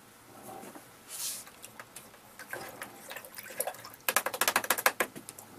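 Paintbrush being rinsed in water, soft splashes and swishes followed by a quick run of rhythmic tapping clicks against the container near the end.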